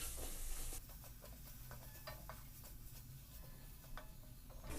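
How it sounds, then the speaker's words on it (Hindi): A spoon stirs and roasts ground spices and chili paste in a pan for spinach dal tadka, giving a soft continuous sizzle with faint scraping ticks, steady and close, with no talking. "अब सारे मसाले को अच्छे से चलाते हुए भून लेते हैं।"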